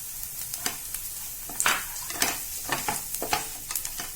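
Turmeric powder fries with ginger garlic paste in a pan for pumpkin sabzi, a soft steady sizzle broken by repeated scraping stir strokes, close and moderately quiet.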